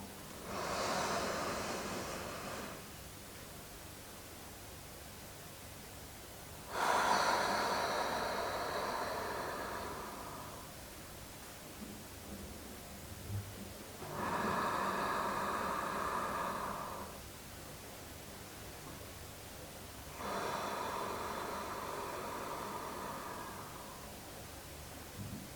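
Slow, deliberate breaths during a square breathing exercise, four-second inhales and exhales separated by held pauses, soft airy whooshes close to the microphone with quiet gaps between them.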